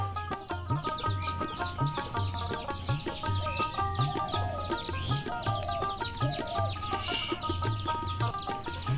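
Chickens cluck repeatedly near a pigeon-feeding spot at a home, with rhythmic low clucks and higher calls overlapping continuously at close range, alongside other bird sounds.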